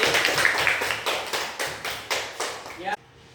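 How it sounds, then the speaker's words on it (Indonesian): A classroom group claps in rhythmic unison bursts, about seven regular beats of applause that stop abruptly near the end. "Tepuk tangan untuk kelompok B."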